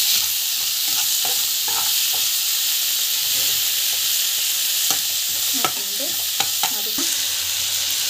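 Ginger garlic paste and asafoetida sautéing in a pan give a steady, close sizzle and hiss, broken by a few scraping stirs and clicks of a spoon against the pan.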